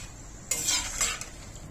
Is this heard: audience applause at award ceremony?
no